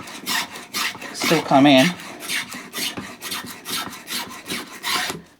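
Metal-bodied spokeshave smoothing wood, repeated rasping strokes in a steady rhythm, close and loud, with a few words spoken between strokes.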